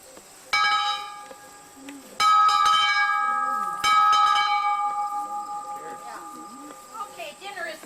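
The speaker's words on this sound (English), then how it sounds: "I'm going to ring the dinner bell." A hand-rung dinner bell outdoors gives three loud, clear strikes, each ringing out and slowly fading, with faint voices heard toward the end.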